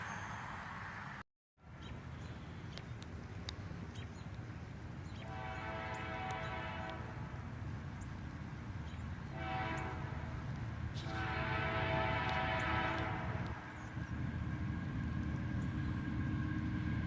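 A freight train hauled by SD70 locomotives rolls past with a steady low rumble of wheels and cars, broken by three long horn blasts, distant and moderately quiet.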